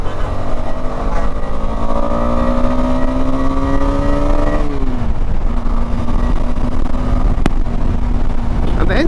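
A KTM Adventure 250 single-cylinder engine drones steadily while riding, its pitch climbing under acceleration, dropping briefly at a shift, then holding a steady note amid wind noise, heard up close.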